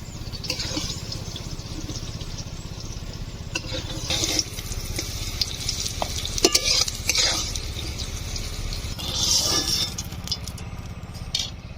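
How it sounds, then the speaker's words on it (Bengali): Pointed gourd and potato pieces being stirred and fried in a pan, with repeated scraping and clattering of a utensil against the metal over a continuous sizzle, close and fairly loud. "পটল ভাজা হয়ে গিয়েছে আর লাল করে ভেজে নিয়েছি"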